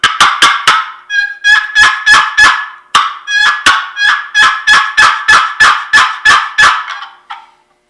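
Wooden turkey box call worked by hand, producing loud, sharp yelps in rapid rhythmic runs of several notes each, repeated in bursts and close to the listener.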